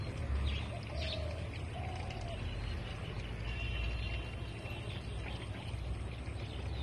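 Many birds chirping in a guava tree in Nepal. The calls come as faint, scattered short chirps over a quiet outdoor background.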